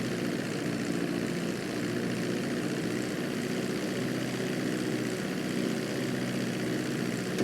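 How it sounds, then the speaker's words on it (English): Steady drone of an airplane engine during a runway landing in GTA V flight school, a continuous even propeller hum with no breaks and no voices. "Start reducing the plane's altitude gradually so you're just above the runway as you approach"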